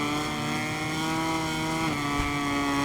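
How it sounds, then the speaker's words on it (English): A Ducati MotoGP motorcycle engine in the MotoGP 23 racing game at Qatar gives a sustained high-revving whine, loud and steady, with a brief dip in pitch as it shifts near the end. "Like the Ducati engine roaring behind me."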